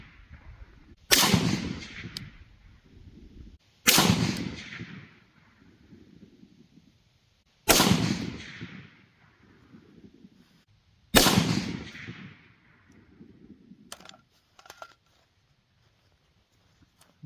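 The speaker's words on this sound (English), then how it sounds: "Shooting the 168 grain OTM round by AAC." An Armalite AR10 rifle fires AAC 168-grain OTM .308 Winchester rounds: four loud, sharp reports spaced a few seconds apart, each with a decaying echo tail, then a fainter pop near the end.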